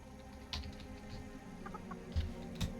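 Chickens in the video game World of Warcraft give a few soft, scattered clucks, faint and spaced apart over a quiet background hum, with no talking.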